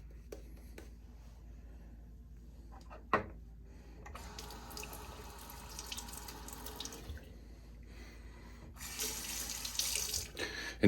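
A bathroom tap runs to wet a hand during a shave, a steady close water stream starting midway and swelling louder near the end, with a few faint knocks before it.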